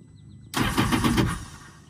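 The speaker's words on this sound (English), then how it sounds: "I'm going to crank the engines to get more oil into the reservoir that we need to continue to siphon out" A Chaparral Vortex 203 VRX jet boat engine cranks over with a sudden loud onset, turning steadily for about a second before fading, with no talking.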